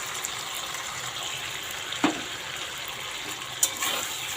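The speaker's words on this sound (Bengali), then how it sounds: "সর্ষে, কাঁচা লঙ্কা আর আদা এইটা এখানে এর মধ্যে ঢেলে দিলাম।" A spice paste of mustard, green chili and ginger frying in a pan for a ridge gourd and jackfruit-seed curry: a steady, moderate sizzle close by, with a couple of brief clinks of stirring.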